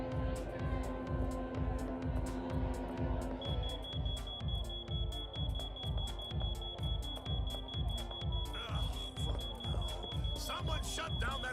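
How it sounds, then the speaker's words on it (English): A building alarm blares in the Thief of Thieves video game, set off by exhaust near a collector motorbike: a loud, steady, pulsing low drone with a high electronic tone, sounding continuously over faint background voices. "Someone shut down that damn alarm!"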